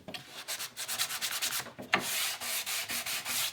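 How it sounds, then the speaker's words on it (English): Wooden legs for a micro camper built for a Honda Element being hand-sanded, with steady rhythmic back-and-forth rasping strokes, close and fairly loud, and no voices. "gave them a bit of a sand."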